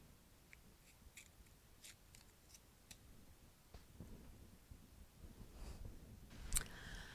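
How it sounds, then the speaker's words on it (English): An HB graphite pencil being sharpened, heard as a faint series of small scraping clicks and crunches spread irregularly over several seconds in a quiet room, with one louder snap near the end. "Now, I need to sharpen my pencil."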